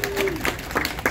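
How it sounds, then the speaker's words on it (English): Scattered applause from a small audience at the Middle C jazz club, a quick patter of clapping hands in a room, with a voice faintly present underneath. "please have a little round of applause"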